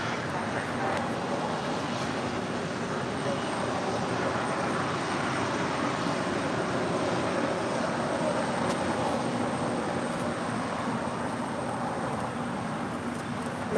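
Airliner on takeoff roll from runway 25 right at LAX, a steady, loud broadband jet roar held throughout with a faint hum beneath, no voices clearly standing out.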